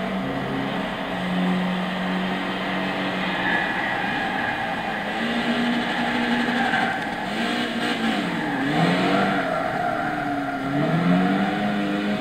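Mitsubishi Airtrek with a 2-litre 16V Sirius-family engine in Gran Turismo 6, its steady drone rising and falling in pitch through several revs and gear changes, continuous and fairly loud with no talk.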